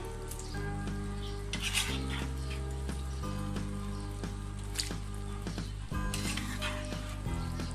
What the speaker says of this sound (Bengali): মাংসগুলো আমি দিয়ে দিচ্ছি এর উপরে।